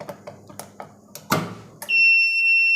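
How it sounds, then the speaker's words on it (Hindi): After a few clicks and knocks, the fault alarm buzzer on an auto packing machine sounds a loud, steady electronic tone that starts abruptly and holds continuously, close by. "तो जब फॉल्ट अलार्म बजेगा सबसे पहले हमारी नज़रें यहाँ होगी"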